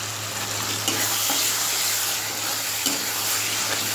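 Tomatoes sautéing with sugar in a pan, a steady bright sizzle with occasional soft stirring scrapes, close and continuous with no talking.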